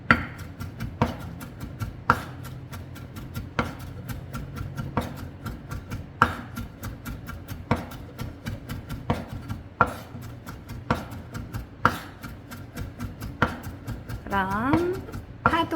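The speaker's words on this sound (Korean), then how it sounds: "그럼 파도 이제 다 다졌습니다." Rapid, steady knife taps on a cutting board as green onion is finely minced, with a brief clatter near the end.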